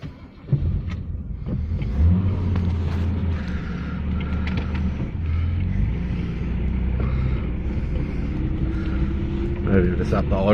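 A Toyota Crown MS65 with a freshly fixed Aisan carburettor, engine starting and revving, steady loud rumble with pitch changes from idle upward, voices talking over it.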